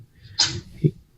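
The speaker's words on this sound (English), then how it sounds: "Bless you, cat." A cat sneezes once, a short, sharp burst that stands out against a quiet room, followed by a faint low thump.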